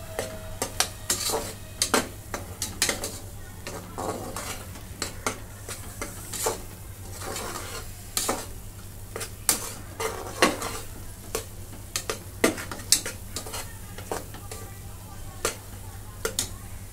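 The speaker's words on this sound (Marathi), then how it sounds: "बारीक गॅसवरती भाजून घेते 5 मिनिटं" Saoji chicken masala paste roasting in a pot over a low gas flame, a steady low sizzle broken by frequent sharp clinks and scrapes of a spoon against the metal pan, close and without talk.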